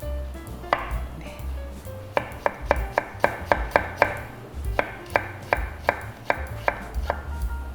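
A knife slices carrots on a cutting board, about a dozen sharp, evenly paced chops close up, a short pause partway through, and no one speaking.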